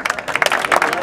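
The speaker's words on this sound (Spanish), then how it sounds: "¡Un aplauso!" A live audience at a freestyle rap battle semifinal in Santa Fe breaks into applause with cheering, dense, steady clapping filling the whole moment at close, loud level.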